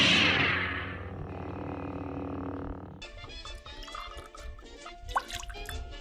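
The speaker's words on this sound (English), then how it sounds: "Now we're going to add half an ounce of blue curacao, which is an orange liqueur" Half an ounce of blue curacao orange liqueur pours into an Old-Fashioned cocktail: a close, steady liquid stream for about three seconds, then a scatter of drips and small glassy clinks as the pour ends.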